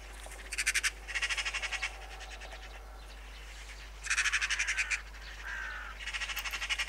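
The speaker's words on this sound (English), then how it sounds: "a magpie lands exactly where the buzzard had just taken off from" An agitated magpie gives several rapid, rattling chatter bursts from a short distance over quiet countryside, with brief pauses between the runs.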